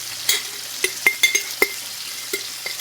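Dry canned potatoes fry in a pan, with a soft sizzle beneath a series of sharp scraping stirs and clinks of a utensil against the pan, spaced irregularly and close by.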